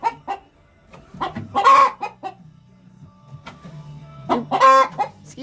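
A hen clucks loudly inside a chicken coop beside a nesting box, with short clucks and two louder squawking bursts near and clear, over a quiet background.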